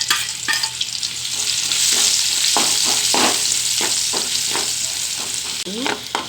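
Chopped onions fry in hot oil in a kadai with a loud, steady sizzle, while a utensil scrapes and taps the pan at intervals throughout.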